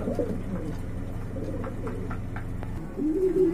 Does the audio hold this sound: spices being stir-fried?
no